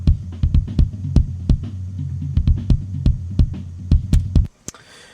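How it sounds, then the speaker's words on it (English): A punchy kick drum thumps in a steady, driving pattern, deep and boomy, then cuts off abruptly near the end. "So that is our kick drum sound. Very punchy, but has plenty of subs"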